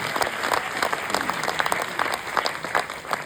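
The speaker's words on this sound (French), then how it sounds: "faites un tonnerre d'applaudissements pour Zachary" An audience gives a thunderous round of applause for a performer named Zachary, a loud, dense burst of many hands clapping with slight rhythmic surges, sustained from start to finish.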